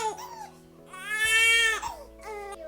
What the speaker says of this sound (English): my infant daughter is crying